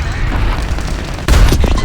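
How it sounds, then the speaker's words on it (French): An artillery barrage explosion in the tank game War Thunder Mobile: a steady low rumble of battle gives way to a sudden loud, deep boom that rolls on to the end of the clip. "On va en barrage d'artillerie aussi."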